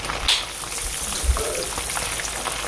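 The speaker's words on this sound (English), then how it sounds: "We got the beer battered catfish nuggets frying." Beer-battered catfish nuggets fry in hot oil in a cast iron pan, giving a steady crackling sizzle that stays even and fairly close for the short stretch.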